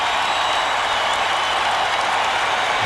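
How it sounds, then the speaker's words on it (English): Basketball arena crowd during a Bulls game roaring loudly in a dense, unbroken wash of cheering and applause that fills the whole stretch. "Listen to this crowd."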